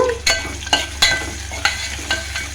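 Green chillies and crushed garlic are stirred into frying tomato masala dal: a steady sizzle broken by about six sharp, rhythmic scraping strokes of a spoon in the pan.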